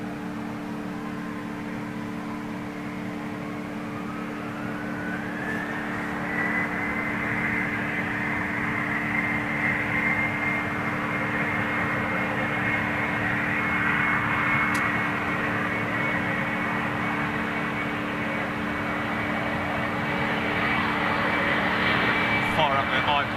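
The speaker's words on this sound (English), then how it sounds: "departure, little embraer" A small Embraer jet departs Amsterdam Schiphol with a sustained engine roar and a rising whine that climbs then holds steady, steady hum beneath, growing slightly louder over time; voices talk faintly at times.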